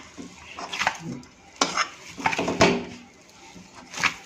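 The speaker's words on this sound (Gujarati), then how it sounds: "આમાં એડ કરી અને ધીમે ધીમે આપણે લોટને આ રીતે મસળતા રહીશું" Dough of flour with oil and water being kneaded by hand for fafda, giving soft irregular squelches and slaps in uneven bursts, with a few sharper knocks against the bowl and no talking.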